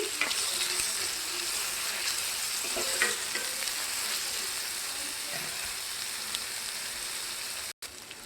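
Mint and coriander being mixed into palao rice frying in a pan, a steady hissing sizzle under repeated spatula scrapes and stirring strokes, close and continuous with no talk, cutting out briefly near the end.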